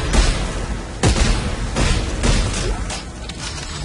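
Rapid bursts of gunfire from the co-op sci-fi horror game Dead Space 3 crack out in several loud volleys over a dense, noisy backdrop.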